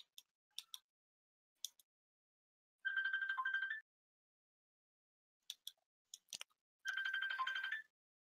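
A phone ringtone plays two short melodic bursts about four seconds apart, with scattered clicks and taps in between.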